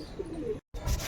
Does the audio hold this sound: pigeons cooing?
yes